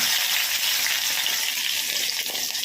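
Crushed garlic and spices such as cumin and dried red chillies sizzle in hot oil while making spring onion sambar, a steady dense hiss filling the whole stretch without pause, close and fairly loud, with no talking.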